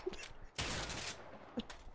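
Gunfire in the PlayStation 4 game A Way Out: a dense, sustained volley of rapid shots fired at empty houses, loud and continuous after a brief lull, with one sharper burst near the end.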